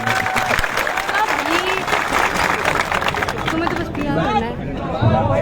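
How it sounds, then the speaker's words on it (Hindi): A crowd of students claps loudly for Uttarakhand's chief minister at an outdoor gathering about a recruitment exam paper leak, with continuous applause mixed with chatter and voices throughout. "एक बार जोरदार तालियां मुख्यमंत्री को।"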